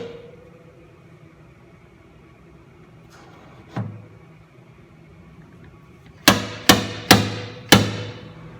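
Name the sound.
slide hammer pulling dent out of car body metal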